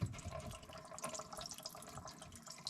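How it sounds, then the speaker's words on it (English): Water draining from a sink pipe into a container under a basin, a faint, steady trickle and splash heard up close throughout, with no talk. "It's just going to drain out what's in the sink."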